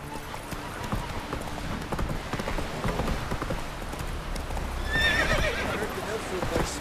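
Horse in The Witcher 3: Wild Hunt galloping with rhythmic hoofbeats and a loud neigh partway through, while someone speaks over the riding sounds.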